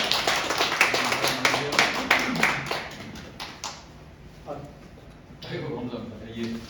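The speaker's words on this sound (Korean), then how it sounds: "뜨거운 박수로 환영해 주시기 바랍니다." Audience applause welcoming a former National Assembly member to the front for a special lecture, a dense patter of clapping for the first few seconds that fades, then resumes more softly under low murmuring voices.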